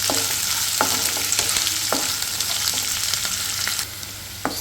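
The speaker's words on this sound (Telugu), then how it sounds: "సరే మన పోపు వేగిపోయిందండి" A tempering of spices sizzles and fries in oil in a pan for chutney, a loud continuous crackle with occasional sharper pops and stirring scrapes, close by and with no talking.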